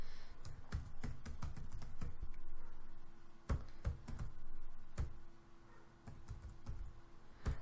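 Keys clatter on a computer keyboard as a command is typed into Cadence PCB design software, irregular clusters of close taps with short pauses between them, no talking.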